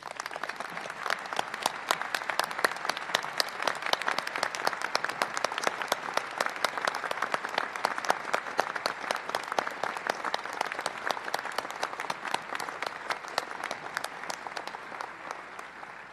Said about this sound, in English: Could we all give a round of applause for Professor Steve Gottlieb?